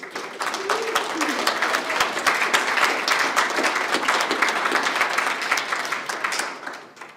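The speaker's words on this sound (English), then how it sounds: "I'd also like to give a round of applause to Amy." An audience applauds Amy during a talk, sustained mid-level clapping from many hands, steady for several seconds before tapering off at the end.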